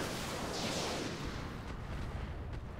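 Heavy weapons fire from battling mechs in the RogueTech video game, a dense continuous roar of blasts and rumbling impacts that stays loud throughout with no pauses.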